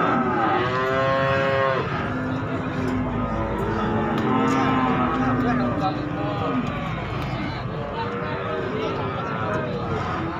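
Simmental cattle at a cattle sale moo repeatedly in long, drawn-out calls amid a noisy livestock setting, with people talking over them.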